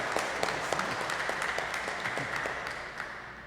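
Applause from a church congregation at a Tuesday Bible study, steady many-handed clapping heard at moderate distance and fairly soft throughout.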